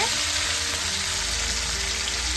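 Fish roe fritters spit and crackle loudly in hot oil, a dense, steady sizzle running close and unbroken throughout, with no talking.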